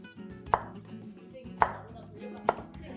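A knife julienning vegetables on a cutting board, three chops at a steady, unhurried pace, with faint kitchen clatter between the sharp strokes.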